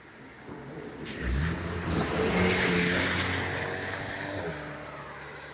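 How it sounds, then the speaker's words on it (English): A car drives past on a wet country road, tyres hissing on the soaked surface as the engine swells from distant to close and fades away, with rain in the background. "you can hear a car"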